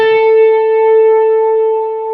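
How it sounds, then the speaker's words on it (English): A single electric guitar note rings out through a chorus effect, its shimmering, slightly wavering tone sustaining evenly for about two seconds after a brief pick attack, clean and alone. "Chorus is where you leave the original sound and you put a pitch modulation alongside it at the exact same time"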